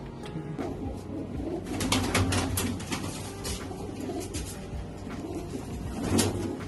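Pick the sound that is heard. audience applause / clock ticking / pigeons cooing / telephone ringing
pigeons cooing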